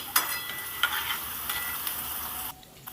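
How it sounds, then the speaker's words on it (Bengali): Green papaya pakoras sizzle in hot oil under a few scraping stirs, then the crackle drops away sharply near the end. "পকোড়াটা লাল লাল করে ভাজতে হবে তাহলে খেতে খুব টেস্টি হবে"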